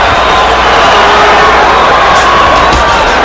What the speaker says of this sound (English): Crowd is chanting, Oscar,